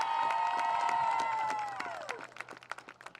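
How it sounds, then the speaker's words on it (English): Spectators at a Guilderland field hockey game cheer and shout loudly for a senior, the sustained yells fading out into scattered hand clapping. "Let's give a big cheer for number 15"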